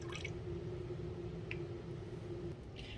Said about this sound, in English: Now I'm going to go ahead and take the water and put it inside of the tank.